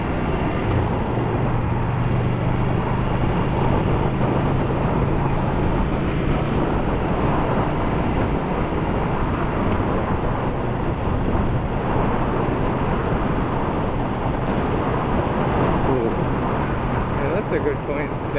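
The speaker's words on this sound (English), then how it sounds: "The headwind here riding back east is really strong." Strong headwind roars against the microphone on a Yamaha Star Bolt motorcycle riding east, a loud, continuous buffeting rush mixed with engine and road noise from start to finish.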